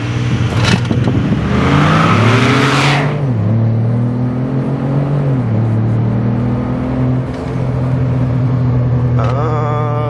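Ford EcoBoost car launching hard on a closed course, engine revving loudly then pulling through rising and falling gear changes as it accelerates away, a strong close roar with no talk.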